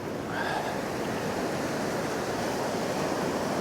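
Sea waves surging onto a beach, a loud, continuous broadband roar of surf with wind buffeting the microphone, no distinct breaks between the swells.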